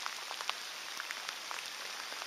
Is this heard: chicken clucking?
no